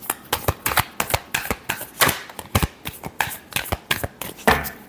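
Tarot cards are shuffled by hand in a quick, rhythmic series of close, crisp riffling flicks, about a dozen bursts in a row with no one speaking.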